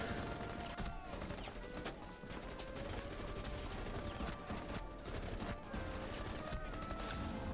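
Gunfire from a shotgun in the video game Rainbow Six Siege, with steady dense shots and clatter continuing for the whole stretch, loud and busy, with a game soundtrack mixed in.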